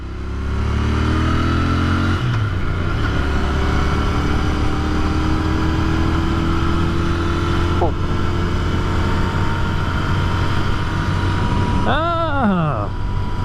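A Royal Enfield INT 650 motorcycle pulls away in second gear, its steady engine drone holding loud and close before rising in pitch near the end as it revs, with a voice talking briefly underneath.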